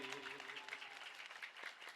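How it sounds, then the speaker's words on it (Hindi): An audience at a Magh Mela religious gathering in Prayagraj claps in a dense, continuous patter throughout, fairly faint and distant. "जोरदार तालियां बजाइए"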